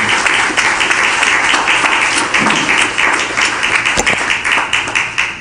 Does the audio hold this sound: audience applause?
yes